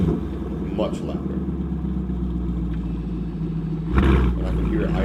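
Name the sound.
Chevrolet Camaro SS 1LE idling with aftermarket exhaust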